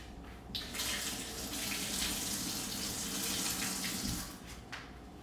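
Tap water runs steadily into a sink while someone washes pineapple off their face, a close, continuous splashing stream that starts after a brief pause and eases off near the end.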